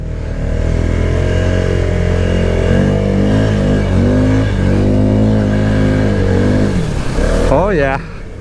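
A 2023 Arctic Cat Mudpro 600 ATV churns through thick, soupy mud in low gear, its engine droning loud and close with a steady rising and falling rev that drops off sharply near the end.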